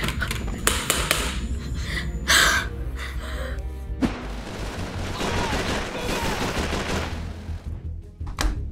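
Gunfire in Call of Duty 3 on PS2/PS3 consoles, a dense burst of shots and sharp cracks with a loud blast around four seconds, followed by continuous battle noise and rattling.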